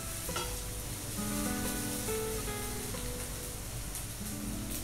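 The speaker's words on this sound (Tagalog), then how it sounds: "Tapos ilagay natin yung sibuyas." Onions fry with browning ground chicken in a pan, making a soft, even sizzle with light stirring, fairly quiet throughout.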